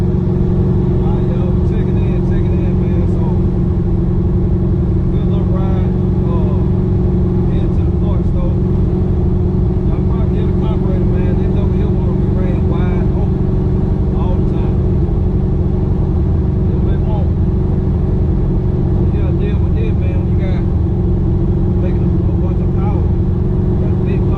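A Chevy box car drives with a loud, steady engine drone that runs unbroken throughout, the rumble and road noise holding an even level with no clear shifts in pace.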